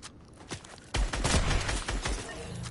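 Gunfire in a shooter video game: a few scattered shots, then a dense, loud barrage of overlapping reports that keeps going to the end.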